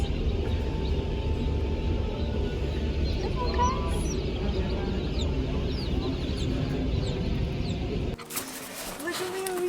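Little bantam chicks and other chickens cluck and peep together in a crowded group, a busy continuous chatter, with voices over them and a short handling noise near the end.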